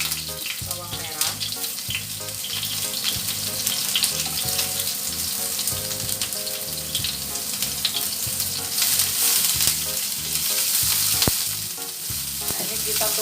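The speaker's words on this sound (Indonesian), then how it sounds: "Nah, ini kita tumis terlebih dahulu ya, baru nanti bawang putihnya." Shallots sautéing in hot oil, a steady crackling sizzle with stirring scrapes throughout, close and fairly loud, with faint background noises.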